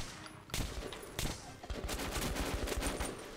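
Gunfire in the shooter game Metro 2033: several loud bursts of shots crack in quick succession, then a longer spell of dense, rapid fire that keeps going to the end.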